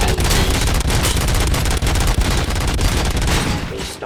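Rapid, loud automatic gunfire from the Robocop: Rogue City video game, a continuous rattling fusillade of closely spaced shots with heavy booms, fading slightly at the end.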